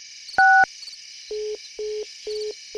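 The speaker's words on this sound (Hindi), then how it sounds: "ठीक है तो फिर मैं लावनी को कॉल करता हूँ।" A phone number is dialed: one longer two-tone beep, then four short evenly spaced keypad tones over a faint line hiss, with no one talking.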